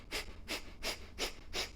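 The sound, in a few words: Kapalabhati yoga breathing, forceful exhales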